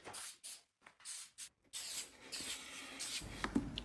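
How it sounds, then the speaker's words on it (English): Shellac sprayed from an aerosol can onto a cherry nightstand, a series of short close hissing bursts with brief pauses, then a longer sustained spray with faint handling clicks. "I'm applying it with the spray shellac because I already have it on hand"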